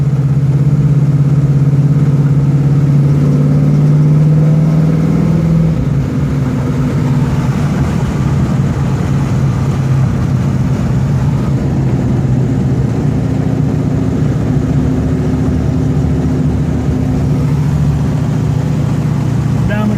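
A 1971 Dodge Super Bee muscle car engine drones loudly and steadily while driving, its pitch shifting down after a few seconds and holding a low, even rumble.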